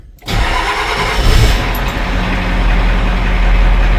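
Big Red, a diesel truck, fires up after a glow plug warm-up and a long sit, cranking briefly before catching into a loud, steady, rumbling idle close by.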